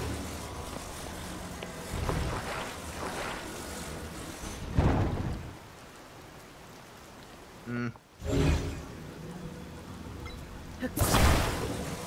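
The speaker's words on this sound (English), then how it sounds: "Oh, it's raining." Rain falls in The Legend of Zelda: Tears of the Kingdom, a steady hiss of game rainfall with a few gusty swells and brief louder bursts, while a player talks over it at times.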